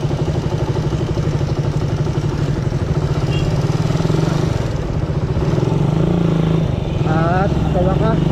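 A Suzuki Raider 150 motorcycle engine runs at a low, steady, roughly 1,500 RPM, a close, even, chugging drone that stays loud throughout, with a brief rising whine near the end.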